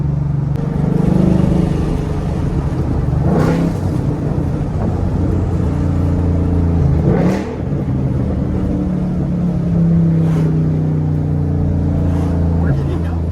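A straight-piped 2013 Mustang GT downshifts into first gear. Three sharp exhaust blips rise out of a steady, droning engine rumble heard from inside the car, with occasional voices.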